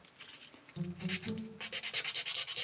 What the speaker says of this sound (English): I'm just going to do some more polishing.